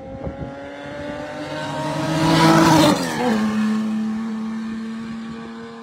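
A Porsche race car in the Carrera Panamericana road race roars past, its engine note rising as it approaches and dropping sharply as it goes by, loud and close with no talk over it.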